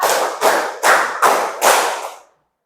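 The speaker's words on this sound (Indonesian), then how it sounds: "tepuk satu" A roomful of students clapping as a group in a steady counted rhythm, five firm claps roughly every 0.4 seconds, each a broad smeared smack of many hands, ending abruptly into silence.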